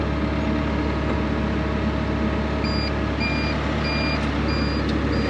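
A Bobcat E60 excavator fitted with a tilt rotor gives a loud, steady diesel rumble close by, while a high reversing beep repeats at regular intervals over it.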